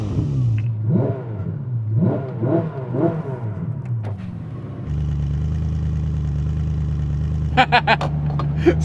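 A Ferrari SF90 XX engine blips through several sharp revs, then holds a steady, droning note against the soft limiter, loud and close, with a few crackling pops near the end.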